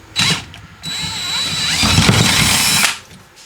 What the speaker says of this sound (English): you just come in with a bolt extractor, shove it down in there